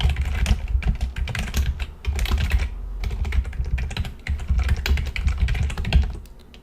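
Steady, rapid keystrokes on a computer keyboard while C# program code is being written, close and clear, with short pauses between bursts and no talking.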